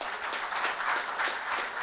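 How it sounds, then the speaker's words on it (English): A brief, steady burst of audience applause at a national conference, many hands clapping together with no voices. "I think she deserves a round of applause for that passion."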